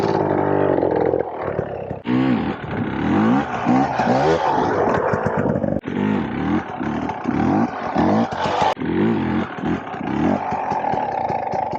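A Beta motorcycle engine during slow wheelie practice, loud and close, revving and bogging in repeated throttle blips with a rough, pulsing exhaust note that rises and falls throughout.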